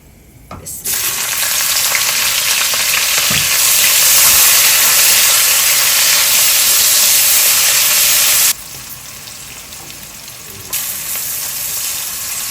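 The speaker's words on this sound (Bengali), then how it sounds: "এখন এতে আমি দিয়ে দিচ্ছি পেঁয়াজ কুচি" Chopped onion hits a hot pan with a sudden loud, steady sizzle that holds for about eight seconds, then drops back to a quieter frying hiss; no one speaks.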